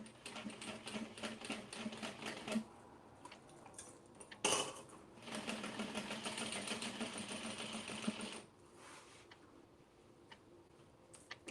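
A home sewing machine stitches a denim tote bag in fast, rattling runs, pausing briefly between bursts, close but fairly quiet with no talk.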